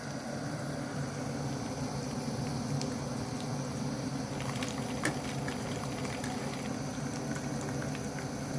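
Korean chicken pieces in their second frying in hot oil, a steady, dense bubbling sizzle with scattered crackles and pops throughout, close and continuous.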